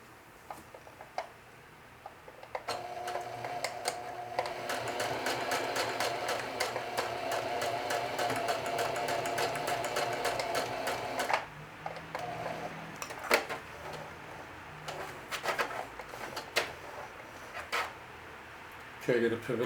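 Sewing machine stitching a jeans watch pocket, a steady rapid needle clatter running for several seconds before stopping, followed by scattered handling clicks while a person talks.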